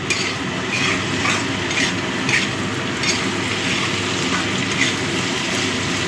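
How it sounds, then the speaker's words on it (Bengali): Tomato and tiny kachki fish being stirred in a pan: a spatula scrapes and clinks against the metal in repeated strokes over a soft, continuous sizzle, close and fairly loud, with no talking. "ভালো করে মিশিয়ে নিচ্ছি"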